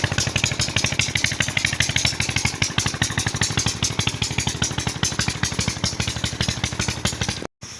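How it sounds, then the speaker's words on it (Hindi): A tubewell pump running in a village, pumping water to irrigate a field: loud, close engine clatter with a fast, steady thumping rhythm that continues almost without a break and cuts out briefly near the end. "आज फिर ट्यूबवेल चल रहा है, इसकी आवाज़ भी बहुत ज़्यादा होती है।"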